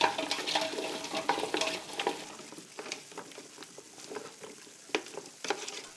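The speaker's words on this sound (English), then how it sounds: "Give it a good mix." Garlic, onions, chestnuts and pureed tomato sauce stirred in a pot, with scraping spoon strokes and light clinks over a soft sizzle, close and fairly quiet, no voices.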